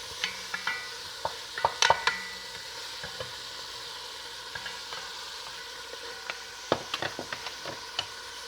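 Hamburger meat fries in a little oil in a pan over medium heat, a faint steady sizzle broken by sharp clicks and scrapes of a utensil stirring, clustered early and again near the end.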